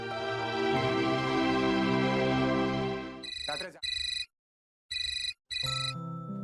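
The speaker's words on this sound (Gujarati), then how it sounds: "અરે ભાઈ સાહેબ, આ મીરાનો ફોન." A telephone rings with a repeating electronic ringtone pattern, bursts of tone broken by short pauses, heard over a soft musical background in a domestic drama scene.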